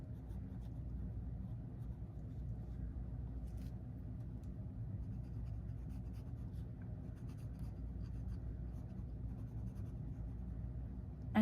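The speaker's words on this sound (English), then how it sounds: "I'm just using my blue Stabilo pencil here, and I'm just gonna kind of sketch in some features here." A blue Stabilo pencil sketches on art-journal paper in a steady, soft, continuous scratching that runs throughout, faint and close, over a low background rumble.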